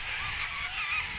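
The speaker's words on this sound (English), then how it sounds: "The river gums are home to hundreds of corellas." Corellas among river gums give a harsh, continuous screeching chorus, loud and raspy, with no voices heard.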